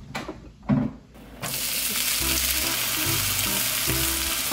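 Bean sprouts stir-fried raw in a pan give a loud, steady sizzle with brief scraping stirs, after a few clatters at the start.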